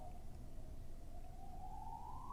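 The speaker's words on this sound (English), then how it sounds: "Now there's a siren." A siren wails steadily, its pitch rising toward the end, over a rumbling low background noise; fairly faint and distant.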